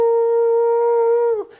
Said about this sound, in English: when those sirens go off, that means the radars detected missiles or drones